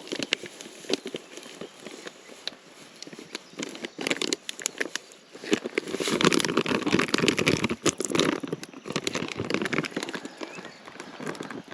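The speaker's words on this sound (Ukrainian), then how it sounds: "знову пішов дощ." Steady rain pattering and crackling close by, with dense droplet taps that swell louder in the second half.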